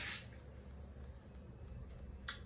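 Spray starch hisses onto a shirt during ironing in two short bursts, one at the start and a briefer one near the end, over a low background hum.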